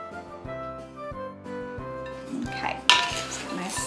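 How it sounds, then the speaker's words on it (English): A wooden spoon tosses fruit cake ingredients together in a bowl, giving soft scraping and repeated clinks against the dish in a steady stirring rhythm, close and fairly loud, ending in a sharper knock. "My wooden spoon, I'm just gonna toss it together."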